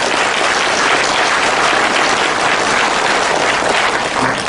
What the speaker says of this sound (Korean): 격려의 박수를 부탁드립니다.